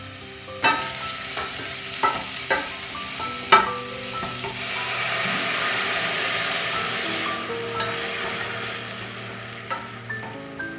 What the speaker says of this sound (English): and fried it until fragrant.